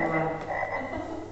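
Frogs croak at daybreak, a loud, close, steady chorus of buzzing calls with no voices over them.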